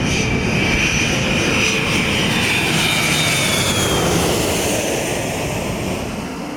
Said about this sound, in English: The noise from Minneapolis-St. Paul International Airport is tough to escape if you live near it.